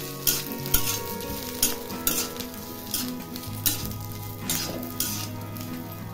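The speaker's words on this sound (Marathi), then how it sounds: "सगळं एकत्रच भाजून घ्यायचं आहे" Dried mackerel, grated coconut and onion roast together in a pan, each stir bringing a scraping clatter of spoon on metal over a light sizzle, repeated in a steady rhythm roughly every half second, close and without voices.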